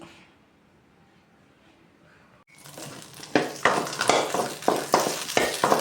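Chopped onions and pepper for a Mullu Murungai chutney sauté in a pan, starting after a quiet pause as a steady sizzle with repeated stirring scrapes in a regular rhythm, close and fairly loud.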